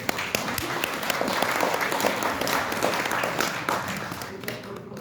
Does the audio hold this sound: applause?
yes